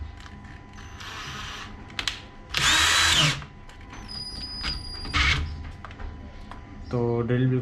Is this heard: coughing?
no